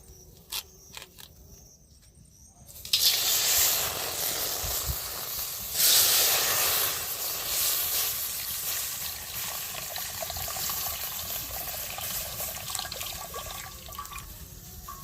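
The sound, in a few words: milk poured from cut packets into a kadai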